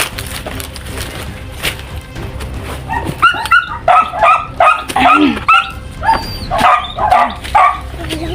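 Several dogs bark in bursts, sharp and fairly close, with a busy outdoor background and some faint voices underneath.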